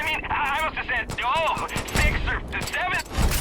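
Rapid gunfire in Far Cry 5, loud repeated shots packed close together under excited talk, with game sound effects woven through.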